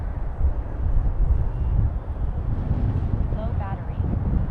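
Steady 10–13 mph wind with gusts on a flying field, a loud low rumble buffeting the microphone continuously, with a faint high whine of a small model aircraft in the distance.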